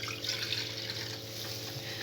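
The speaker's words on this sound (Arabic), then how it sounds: "الكسرولة بتاعتك، هنحط فيها بقى اللبن" Milk being poured into a casserole pot for boiling, a steady close liquid stream that keeps flowing for about two seconds with a constant low hum beneath, no speech.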